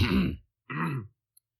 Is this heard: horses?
no